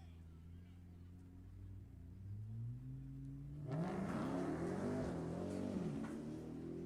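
A 2019 Dodge Demon and a Mark V Supra line up for a modern muscle car drag race, engines humming low and steady before a loud surge of revving and acceleration, with an announcer talking over the noise.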